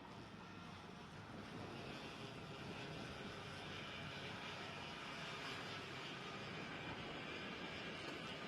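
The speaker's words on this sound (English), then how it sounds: "So these are 100cc 2-stroke air-cooled engines, single speed." Several 100cc two-stroke air-cooled single-speed racing kart engines in a senior race drone together as a steady, dense, distant buzz that holds its level throughout, with no talk.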